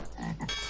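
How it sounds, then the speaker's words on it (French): A giant toad croaking in the fantasy video game Might and Magic, a single loud, close, low croak lasting under a second, with no voices. "crapaud géant."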